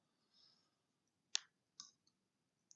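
Computer mouse clicking in a quiet room, a few sharp isolated clicks spaced apart, close and fairly faint, with a soft brief rustle before them.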